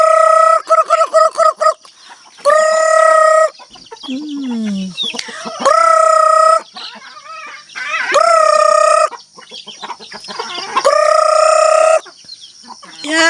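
Several roosters crow loudly and repeatedly close by on a rural Filipino farm, long harmonic calls recurring every few seconds, with chickens clucking in between and a brief murmur from a person.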